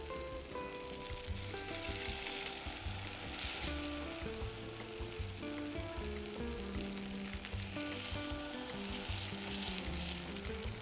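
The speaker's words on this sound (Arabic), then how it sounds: "على عافيه مهيله باش الخضره تطيب لينا حتى من الداخل" Vegetables fry gently in a pan over low heat, giving a soft, continuous crackling sizzle that stays even and fairly quiet throughout, with no talk.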